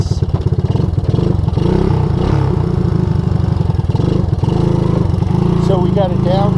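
A 1984 Honda ATC200S ATV with a flooding carburetor runs loud and close, its engine chugging steadily throughout with a little revving near the end and brief talk over it.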